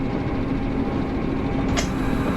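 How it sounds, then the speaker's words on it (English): Steady low diesel rumble inside the cab of an NS600 diesel shunter locomotive in Train Simulator, a constant drone with one brief higher-pitched hiss near the end, no voices. "It feels like you're in the cab of a diesel, you know?"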